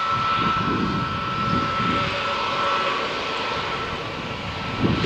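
A Vueling jet airliner sits on the runway at Malaga Airport before takeoff, and its engines give a steady, loud, broad roar with a faint whine for several seconds.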